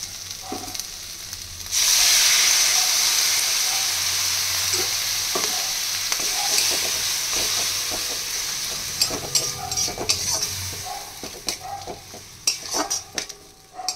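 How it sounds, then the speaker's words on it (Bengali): Hot water poured onto snails sautéing with onion, ginger, garlic, chilli and turmeric sets off a sudden loud steamy hiss, which settles into a steady sizzle with clattering spoon stirs near the end. "এবার দিয়ে দেব একটু গরম জল।"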